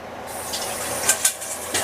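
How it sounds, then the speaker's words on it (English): Regular tap water is poured into a pot of bean and ham bone soup, making a steady splashing, filling sound up close with a couple of brighter splashes and no talking. "And then I'm going to go ahead and add my water."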